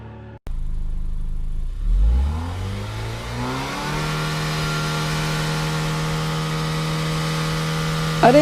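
Car engine in the Free Fire video game starting with a thump, revving up in a rising whine, then settling into a steady loud drone, close and alone without talk.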